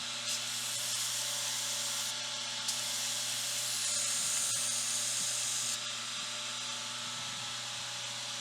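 A belt grinder runs continuously with the belt hanging slightly over the platen while it tapers a steel knife tang, giving a steady hissing, abrasive whine with a low motor hum beneath and brief shifts in grinding pressure.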